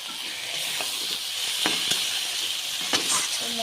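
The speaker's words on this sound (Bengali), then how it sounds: "মশলাটাকে একটু কষে নিতে ভালো করে কষিয়ে নেবো" Taro stolons fry in masala with a bright, constant sizzling hiss, broken by occasional spoon scrapes and taps as they are stirred, close and steady.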